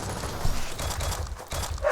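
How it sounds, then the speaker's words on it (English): A dog gives several muffled barks in quick succession, moderately close, over a continuous low background rumble. "my dog is barking"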